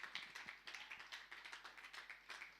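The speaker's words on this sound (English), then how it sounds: "Round of applause." Audience at a summit applauding, a faint, fairly sparse patter of hand claps in irregular bursts with no speech over it.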